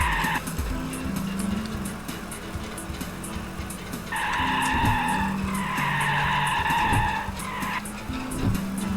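A Trabant racing on a forest track in the Trabi Racer video game, with a steady engine drone and loud, drawn-out tire squeals as it skids through corners, close and continuous.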